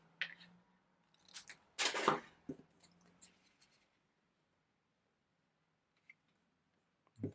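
Scissors cut off a strip of cardstock for a spinner pop-up card, a short close run of crisp snipping and paper rustle, then quiet with a couple of small taps.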